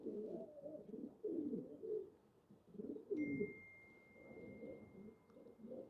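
Pigeons coo softly in a rhythmic series of low, rolling calls, with a faint steady ring running through the latter half.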